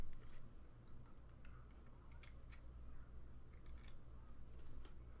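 Scissors snip through the cotton wick ends of a vape coil in a Kanger SubTank Mini with nickel OCC coils, giving a scatter of small, sharp, close clicks over a low background hum, with no talking.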